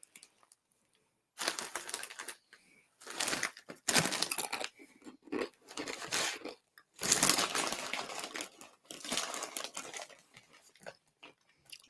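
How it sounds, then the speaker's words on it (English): Someone crunches on dry, uncooked ramen noodles, a run of crisp crackling bites in bursts after a short quiet start, close and fairly loud, with brief pauses between mouthfuls. "I'm gonna eat me some raw ramen."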